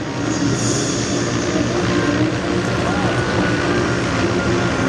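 A First World War-era airplane at an air show display gives off a steady, fairly loud engine drone that holds throughout, with faint talk mixed beneath it.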